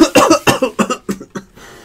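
A man coughs about seven times in a quick, uneven series, close and loud at first, then weaker, with no talk, before opening a box of 2018 Diamond Kings baseball cards.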